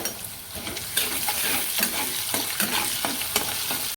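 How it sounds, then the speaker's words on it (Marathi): Chopped onion fries with curry leaves and salt in two large spoonfuls of hot oil over low gas, giving a continuous close sizzle punctuated by repeated spatula scrapes and stirring clatters, ending abruptly. "हे पण मी गॅस बारीक करूनच भाजत आहे कांदा"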